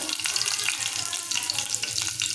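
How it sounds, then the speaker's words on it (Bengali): Nigella seeds and slit green chillies dropped into hot oil, a close steady crackling sizzle with small spattering pops and a few stirring touches, moderately quiet and uninterrupted. "একটু গরম হলেই ওর মধ্যে আমি কালো জিরে আর কাঁচা লঙ্কা ফোড়ন দিয়ে দেব।"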